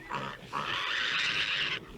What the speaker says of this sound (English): what's the matter with that little pig?